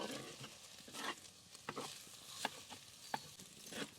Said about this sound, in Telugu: ఇప్పుడు వీటిని ఒక 2-3 మినిట్స్ గోల్డ్ కలర్ వచ్చే వరకు వేయించుకుందాం.